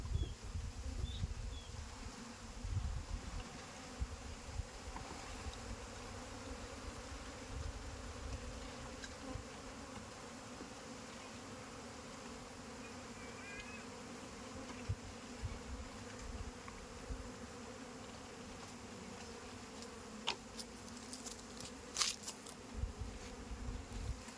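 Aggressive Apis cerana bees buzz in a thick, continuous drone while their colony is relocated, close and steady for a long stretch with occasional sharper flybys and no speech.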